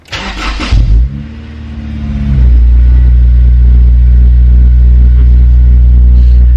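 A Honda S2000 with a Magnaflow exhaust starts with a short burst, then revs up into a loud, sustained deep exhaust roar that holds steady.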